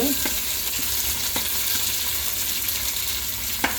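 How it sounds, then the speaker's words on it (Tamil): Chopped tomatoes frying in a pan for a fish curry, a dense continuous sizzle with occasional light stirring taps and one sharper click near the end, no voices. "இப்போ நாங்கள் வெட்டி வச்ச சும்மா தக்காளி பழத்தை போடுவோம்"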